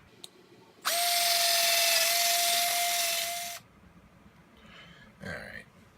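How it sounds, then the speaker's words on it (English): A power drill bores out a hole in an Exalt remote line adaptor, running in one steady, high whining burst of about three seconds. A short faint clatter follows after it stops. "you're going to have to drill that hole out."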